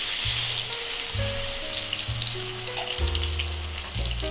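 Onion, ginger and garlic paste hits hot oil in a pan for egg pulao, giving a loud, steady close sizzle with a hiss and spatter that never lets up. Faint hums and clinks sit beneath it, and no one speaks.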